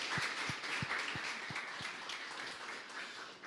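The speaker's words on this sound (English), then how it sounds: "So a big round of applause for the first pitch of the day." Audience applause after a startup pitch at a demo day event: steady, dense clapping from a crowd at moderate volume, with no talking over it.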